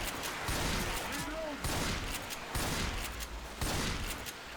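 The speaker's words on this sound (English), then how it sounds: "the guns are way too loud" Rapid bursts of gunfire from guns in the zombie shooter Left 4 Dead 2 sound loud and dense, coming in repeated volleys with short gaps in between, and a voice talks over them.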